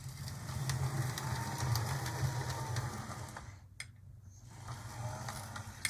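A Roco SNCF 2-10-0 decapod model steam locomotive runs smoothly, giving a soft continuous mechanical whir with faint rhythmic ticking, heard up close and alone, briefly dipping quieter midway.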